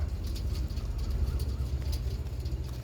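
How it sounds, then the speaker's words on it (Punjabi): Large female pigeons coo in a steady, close, low rumble that continues throughout, with no voices. "ਇਹ ਤੇ ਸਾਰੀਆਂ ਤਕਰੀਬਨ ਵੱਡੀਆਂ ਕਬੂਤਰੀਆਂ ਹੀ ਆ"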